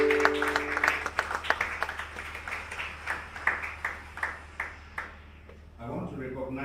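An audience at a corporate unveiling event for a commercial bank applauds, a steady patter of claps at moderate distance that fades as a voice begins speaking at the end.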